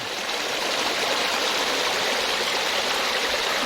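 A steady, clear forest stream flows close by in Nakhon Nayok, Thailand, a continuous bright splashing hiss with no pauses and no voices.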